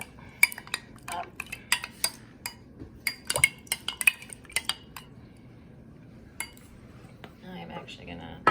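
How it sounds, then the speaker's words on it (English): A spoon stirs a mixture in a glass or cup, giving a run of sharp, bright clinks and taps at an uneven pace, close and clear, with a short pause before a final flurry of clinking. "Now let's stir that up."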